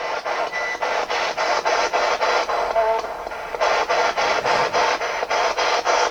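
A ghost box device sweeps through radio static, giving a loud, steady hiss chopped into rapid rhythmic pulses by the sweep, with a brief tonal blip near the middle and a short pause before the pulsing resumes.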